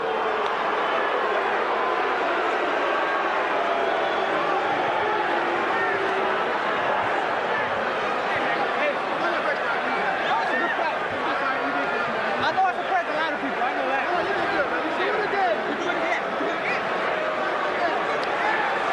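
A boxing arena crowd murmurs and chatters in a continuous, dense babble after a referee stops the bout, many distant voices blending with no clear words.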